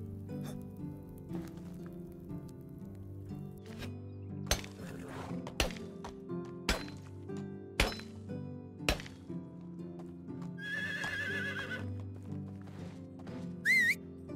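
A horse in the game Medieval Dynasty, with sharp hoof clops and thumps at irregular intervals over a steady musical soundtrack, plus a brief whinny-like squeal near the end.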